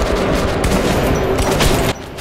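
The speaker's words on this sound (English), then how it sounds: "I think if you get all the shells to hit it, the shotgun, you can one shot them." A shotgun firing in the video game Metro 2033 Redux, a dense loud burst of gunfire blasts over a busy combat din that drops off sharply near the end, with no talk.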